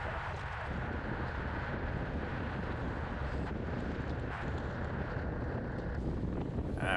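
Strong headwind buffeting a rider during a Category 3/4 bicycle race at Pacific Raceways, a continuous roaring wind rush over the microphone, steady and dense with no talk.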